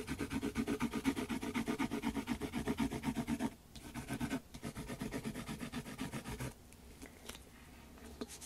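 Tombow marker rubbing back and forth over a paper rubbing, rhythmic scratchy strokes in quick repeated bursts, close and fairly quiet, with brief pauses between passes.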